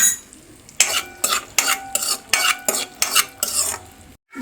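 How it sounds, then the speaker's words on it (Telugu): Cashews and raisins frying in a pan over a medium flame for sago and vermicelli payasam, stirred in quick rhythmic scraping strokes, about eight in a row, over a soft sizzle close by. "మీడియం ఫ్లేమ్లో పెట్టుకొని కలుపుతూ ఉండాలి."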